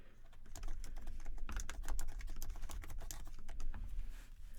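Someone types a computer password on a Mac keyboard, producing a quick, irregular run of light key clicks close to the microphone.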